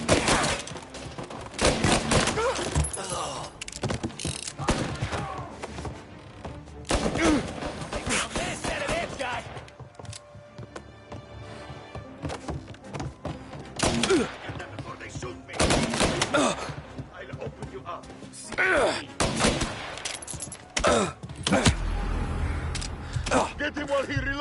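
A shootout in the Mafia video game brings repeated bursts of gunfire with sharp cracks and heavy thumps in dense clusters, separated by short quieter gaps. Voices shout in between the shots.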